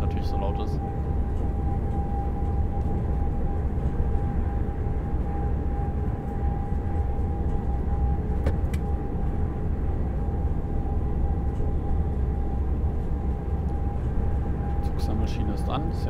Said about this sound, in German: Konnte man vermutlich jetzt schwer verstehen, weil der Zug natürlich so laut ist.